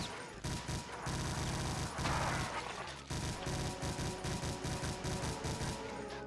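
Rapid, loud gunfire in Doom with the Brutal Mod, a fast automatic weapon hammering out steady repeated shots, briefly broken by a blast before the rhythmic firing resumes.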